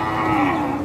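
Cattle on a livestock truck bound for slaughter give a single loud, close, sustained moo.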